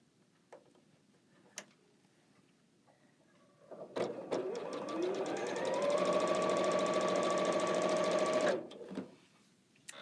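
A sewing machine stitches fabric in one steady run of about four and a half seconds, loud and close, with a rapid even clatter that starts and stops cleanly, framed by quiet handling sounds.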